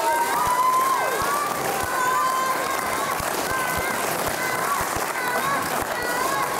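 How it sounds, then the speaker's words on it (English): Indoor crowd murmur at a Fight Factory Wrestling show in the Birchwood Leisure Centre, a steady roomy hubbub of many voices with periodic thuds of wrestlers hitting the ring canvas throughout. "Crowd becoming a bit more lively now"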